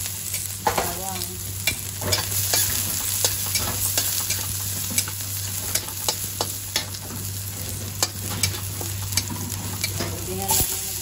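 Garlic sizzles in a small amount of oil in a pan while being stirred for banana-heart coconut stew; a steady close frying hiss with frequent sharp scrapes and clicks of the utensil, no talking.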